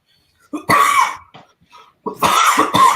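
Several harsh coughs from one person, close up: a first burst, a short pause with faint rustling, then two more strong coughs in quick succession.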